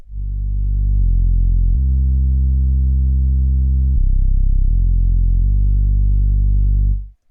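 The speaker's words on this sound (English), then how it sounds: "the supersaws are sounding pretty nice already" Supersaw synth chords shifted down into the sub range in Ableton play as dark, dense, low sustained tones, changing chord several times over a few seconds before ending abruptly, with no voices.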